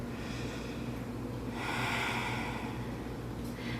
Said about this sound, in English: Another deep inhale and exhale here.